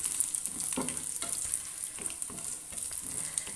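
Cashews and raisins fry in a pan for payasam with a steady crackling sizzle, broken by several soft scraping stirs, close and fairly quiet, with no talk.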